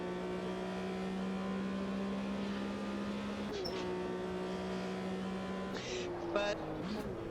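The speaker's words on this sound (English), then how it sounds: "It does sound like a Porsche Flat 6." 1974 Porsche RSR 3.0 flat-six engine in a racing video game, a steady buzzing drone at constant revs that dips around a gear change and ends with a few brief sharp shifts or blips.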